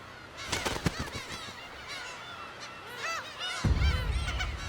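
Black-tailed gulls defending territory let out repeated harsh, honking calls in quick overlapping bursts, some near and loud, with a rush of wind or surf rising underneath near the end.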